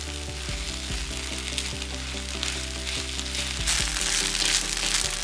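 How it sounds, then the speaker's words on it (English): Ketchup and cooked rice sizzle steadily in a frying pan for Japanese omurice, with a constant close frying crackle and light rhythmic scraping as the mixture is stirred. "Boil down the ketchup and mix it with the rice."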